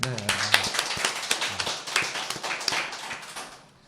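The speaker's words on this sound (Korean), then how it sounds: "격려의 박수를 한번 칠까요?" Brief encouraging clapping from a small group on a Korean talk show about weapons in films, a scattered, uneven burst of hand claps under a talking voice that fades out near the end.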